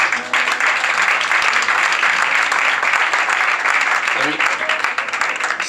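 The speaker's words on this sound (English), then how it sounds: "A warm round of applause." Steady applause from a theatre audience at a mentalist's stage show, dense and sustained clapping that fills the room, with a faint voice surfacing near the end.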